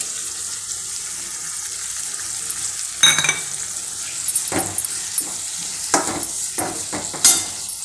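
Ginger garlic paste sautéing in a pan with onions and salt for a meal maker gravy, a steady hiss and sizzle broken by several sharp scraping stirs and clinks, close up with no talking.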